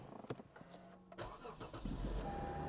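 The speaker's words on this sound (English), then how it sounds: "Let's see if it starts." A car's engine cranks and catches within a couple of seconds, settling into a low idle; the starter whirs and the motor runs close by, with no talk.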